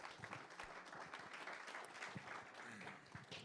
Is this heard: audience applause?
yes